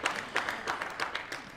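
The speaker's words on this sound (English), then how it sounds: "Applause from the crowd" Brief burst of crowd applause at a short mat bowls match in Norway, moderately loud and slightly distant, with steady clapping.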